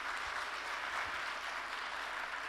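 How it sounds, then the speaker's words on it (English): A large audience applauds steadily in a dense, continuous wash of clapping at a podcast recording event, with no talk over it. "Can we hear a round of applause?"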